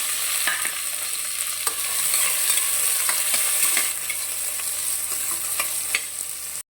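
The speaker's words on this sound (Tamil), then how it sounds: "எண்ணெய் சூடாயிடுச்சு, கட் பண்ண வெங்காயத்தை சேர்த்துக்கணும்." Chopped onions fry in hot oil for mutton bone soup, a loud steady close sizzle with occasional crackles and stirring clicks, continuous with no voices.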